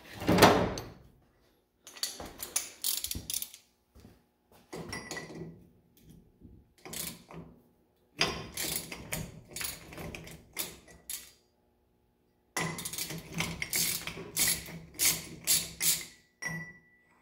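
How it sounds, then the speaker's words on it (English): A large socket wrench works the wheel bearing nuts on a 1954 International truck with bursts of close metallic clicking, ratcheting and clanking, separated by silent pauses, with no speech. "Takes a great big socket to get those wheel bearing nuts off."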